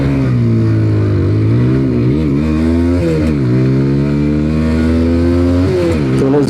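A 160cc motorcycle in sport mode accelerating hard in first gear, heard up close and loud: the engine note climbs steadily, dips briefly and surges again, revving high with no talking over it.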